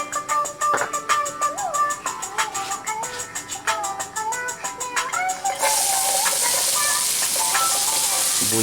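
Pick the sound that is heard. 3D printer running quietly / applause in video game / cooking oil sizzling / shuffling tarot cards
cooking oil sizzling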